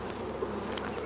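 Honeybees from a newly installed package hive hum in a dense, continuous buzz, close and steady throughout with no talk.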